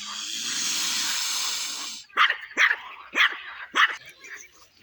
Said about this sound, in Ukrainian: не гавкай на них. Не гавкай.